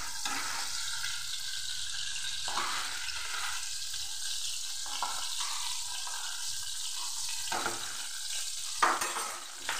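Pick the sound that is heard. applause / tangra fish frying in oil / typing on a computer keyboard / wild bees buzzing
tangra fish frying in oil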